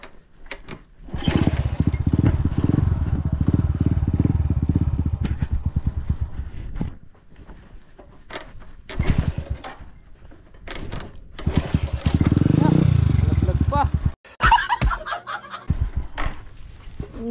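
A motorcycle engine runs close by, revving and idling in uneven surges, with a brief drop-off and clattering before it roars up again.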